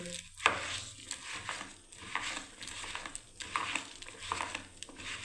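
Red lentils being hand-mixed with mustard oil in a bowl, giving wet squelching, crinkling and patting sounds in uneven bursts, close and moderately loud, with no talk.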